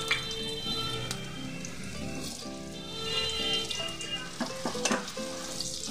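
Potatoes frying in hot oil with bay leaf, a steady sizzle with clinks of a utensil stirring, close and fairly loud, no talking.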